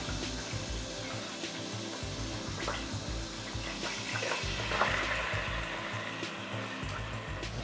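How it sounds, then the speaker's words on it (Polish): Onions sizzle and crackle steadily in hot oil in a pan, with occasional stirring scrapes and a constant frying hiss. "Okej, skwierczy, można wrzucać całość."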